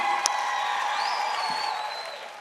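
Concert audience applause at an annual music awards ceremony, a soft, even spread of clapping from a large crowd with a faint sustained tone above it, tapering slightly toward the end.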